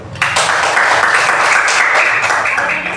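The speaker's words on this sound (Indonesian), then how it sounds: "Tepuk tangan dulu." A group of children in a classroom clapping their hands together, a dense burst of close applause lasting a few seconds with no talking.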